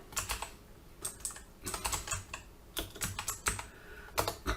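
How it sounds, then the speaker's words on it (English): Quick bursts of typing on a computer keyboard, clusters of close, crisp key clicks separated by short pauses, with no voices. "I'm going to type in download calculator."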